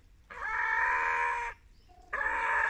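Large Cochin hens, a big heavy breed, give a long loud harmonic crowing or cackling call, a brief quiet pause, then a second loud call, close by with no talking.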